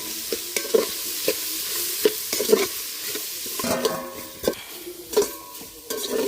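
Masala tempering sizzles in a pan while a spoon stirs it, with steady frying hiss and sharp scraping clinks against the metal at irregular moments, heard close with no talk.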